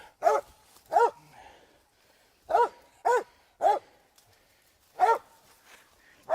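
Hunting dogs bark during a hog hunt in the rain, sharp single barks coming in a loose, uneven series, fairly close and loud against a quiet background.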